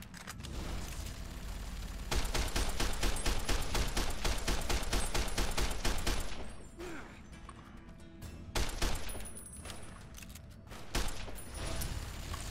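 Rapid service rifle gunfire in Fallout: New Vegas, dense loud bursts of shots that break off, then resume with scattered single rounds and impacts.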